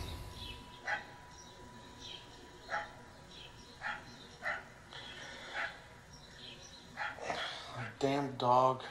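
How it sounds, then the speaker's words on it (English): In the video game Tender Loving Care, a dog barks in short, evenly spaced single woofs about once a second. The barks are fairly distant and quiet, and a voice speaks at the very end. "Damn dog."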